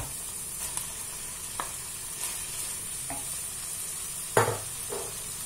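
Chicken, olive and vermicelli filling with parsley and coriander is stirred in a sizzling pan, a steady frying hiss broken by several soft scraping strokes of the spoon, close and with no talking.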